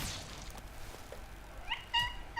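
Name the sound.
cat meowing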